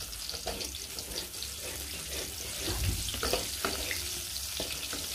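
Onion and garlic fry in oil with a steady, close hiss and sizzle, broken by occasional crackles and a stirring scrape partway through.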